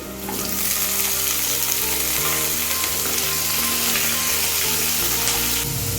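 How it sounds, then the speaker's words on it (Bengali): Loud, dense sizzling of green jackfruit pieces frying in hot mustard oil in a wok, a constant crackling hiss with occasional stirring scrapes, close up and uninterrupted. "তেল গরম হয়ে গেলে এরপর এঁচড়গুলো ভেজে নিচ্ছি"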